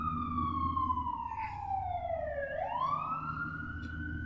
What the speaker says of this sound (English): here's the siren coming up